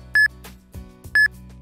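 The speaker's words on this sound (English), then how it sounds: "In addition, an alarm will sound for 6 seconds." Fault alarm on a Rheem AmbiPower 280e heat pump water heater, two short loud electronic beeps about a second apart, clear and close over a low hum.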